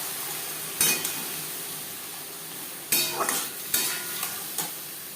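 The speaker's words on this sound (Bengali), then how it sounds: "সর্ষে যখন ফুটতে শুরু করে দেবে সেই পর্যায়ে দিয়ে দেবো শাপলা।" Water lily stems stirred into popping mustard seeds in a frying pan for a vegetarian shapla dish, with a soft steady sizzle broken by several sharp scraping clatters of a spatula against the pan.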